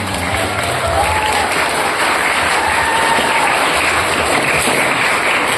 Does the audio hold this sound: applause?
yes